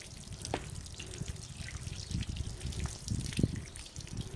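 Water sloshes and drips as a blanket is rinsed by hand in two basins. Soft splashes and trickles come in irregular bursts, close and fairly quiet.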